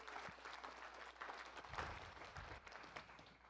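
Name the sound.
audience applause at panel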